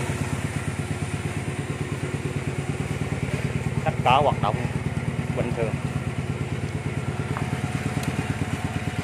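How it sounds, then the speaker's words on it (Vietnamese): Honda Rebel 150 motorcycle with liquid cooling and stock original parts idles with a steady, even low putter close by, while someone speaks briefly over it. "Xe đang nổ máy luôn nha anh em. Cho nổ máy cho test tiếng máy."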